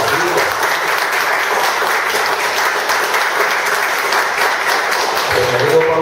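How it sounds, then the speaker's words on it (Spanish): A conference audience gives sustained, dense applause for a guest, a loud, even wash of many hands clapping with a few voices faintly underneath. "les suplico un fuerte aplauso para Pablito"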